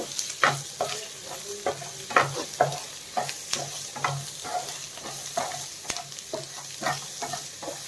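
Egg for an egg roast is stirred and fried in a pan, with steady sizzling under a rhythmic series of close spatula scrapes and stirring strokes. Nobody speaks.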